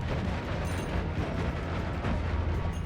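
Rapid explosions from a spell wand in the video game Noita fire on full auto, a dense, continuous barrage of booming blasts with no pauses, and no one speaking.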